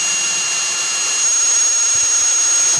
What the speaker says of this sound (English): I'm going to come up to the middle and I'm going to drill 2 touching holes again.